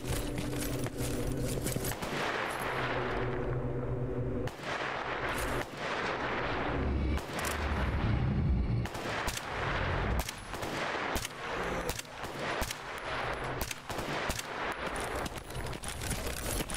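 Repeated gunfire bursts in the Stalker Shadow of Chernobyl video game, Radiophobia mod, loud sharp shots in clusters with short gaps and booming echoes, no talking over them.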